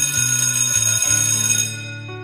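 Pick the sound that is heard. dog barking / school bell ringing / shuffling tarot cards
school bell ringing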